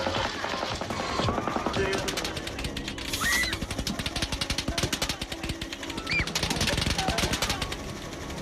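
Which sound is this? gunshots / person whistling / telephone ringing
gunshots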